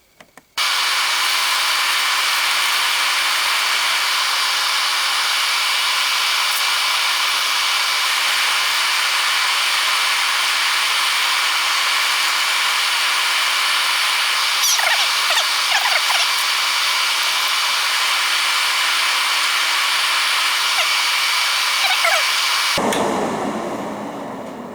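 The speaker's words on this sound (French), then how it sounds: "je vais quand même allumer la cabine pour que ça aspire l'odeur du truc" An extraction fan in a paint spray booth for airbrushing, starting abruptly and running loud and steady as a constant airy whoosh with a mechanical hum, then shutting off and winding down near the end.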